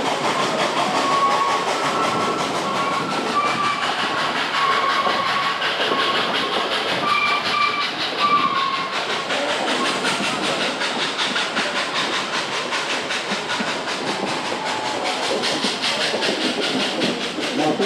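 The Dollywood Express train rolls steadily along the rails with a continuous rumbling hiss and faint rhythmic clatter, loud and close throughout.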